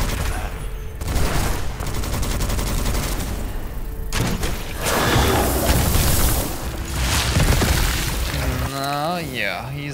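Dense video game combat fills the scene with near-continuous bursts of gunfire, heavy booming explosions and thrown bombs going off, loud and chaotic, while a player's voice talks over parts of the action.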